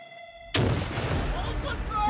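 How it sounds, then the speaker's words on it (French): A live grenade blast during Swiss army stronghold-assault training hits suddenly and close after a quiet hum, then a long rumbling, crackling aftermath rolls on for over a second and a half. "go on to take strongholds with live grenade attacks"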